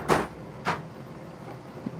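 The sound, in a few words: Cobalt toolbox drawer opening and closing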